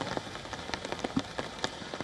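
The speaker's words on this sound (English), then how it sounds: "We can see that it's raining there" Rain falling outside a residence in New Delhi, a steady soft patter with scattered sharper drops striking a surface nearby, quiet and continuous with no voices.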